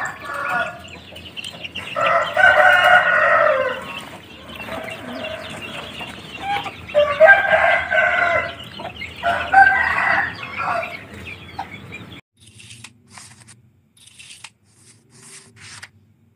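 Chickens at a poultry farm coop, including marans, cluck in a busy chorus while roosters crow loudly in repeated bursts, then the flock quiets to faint, scattered clucks.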